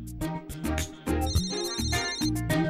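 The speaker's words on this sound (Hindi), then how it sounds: "उनका फोन भी आ रहा है" A phone ringtone for an incoming call plays as a rhythmic repeating melodic tone pattern, clear and fairly close, with no talking over it.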